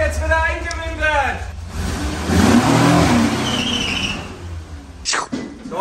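A bus engine revs as the bus is driven in for winter storage, rising to a loud roar in the middle, with people talking before and after.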